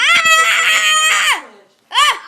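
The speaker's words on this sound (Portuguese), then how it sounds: "para de gritar" A child screams loudly and close by, a long shrill wail that breaks off, then after a short silence a second shorter shriek.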